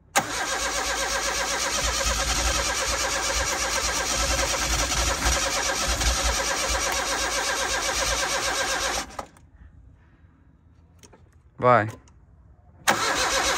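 A turbocharged car engine with a newly rewired fuel pump cranks on the ignition key and runs loudly and steadily for about nine seconds, then cuts out. A brief whir and a short burst follow, with someone speaking nearby.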